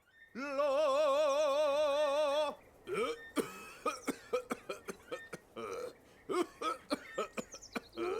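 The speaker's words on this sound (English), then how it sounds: "He coughs so hard that I don't think he can talk at all." A man coughs hard in a long, harsh, strained burst, then a rapid series of shorter loud coughs and hacking gasps follows, close and alone.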